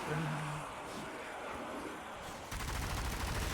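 Enemy sniper fire crackles through a zombie shooter game, Zombie Army 4, with dense loud bursts of gunfire and a harsher barrage near the end, mixed with game noise.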